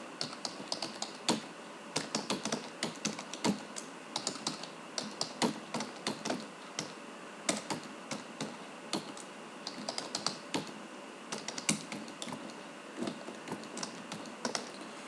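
Steady run of computer keyboard keystrokes as marks are entered into a 4x4 table in Microsoft Word, close and clear with irregular bursts and short pauses, no voices.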